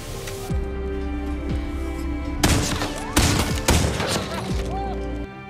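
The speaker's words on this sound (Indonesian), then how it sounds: "Dan tembakan Goodnight tidak diragukan lagi" Several sharp gunshots crack in a quick cluster, loud and echoing, over a steady musical background of tones.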